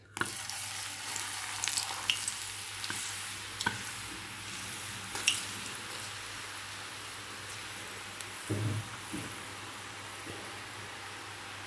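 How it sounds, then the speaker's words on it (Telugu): Jantikalu dough pressed into hot oil and deep-frying, a continuous soft bubbling sizzle with faint crackles, steady and fairly quiet throughout with no talking. "జంతికి ఉడికిందా లేదా అని బాగా ఫ్రై అయిందా లేదా అని తెలుసుకోవడానికి ఒక చిన్న చిట్కా చెప్తున్నాను ఇందులో బబుల్స్ ఉంటాయి చూసారా"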